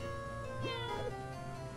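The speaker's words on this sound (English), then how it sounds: "Such language coming from a cat!" A house cat meows a few times, faint and under a steady background hum, with the rising and falling cries close together in the middle.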